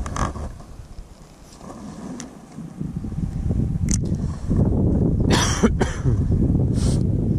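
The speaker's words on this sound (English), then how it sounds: "I wish a tickly cough would go." A few scattered tickly coughs by a riverbank while pike fishing, over a steady low rumble, with a couple of sharper bursts toward the end.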